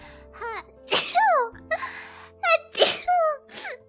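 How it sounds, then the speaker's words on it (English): Several sharp sneezes burst out close to the microphone, interspersed with gasping breaths and short vocal sounds. "I'm gonna sneeze again."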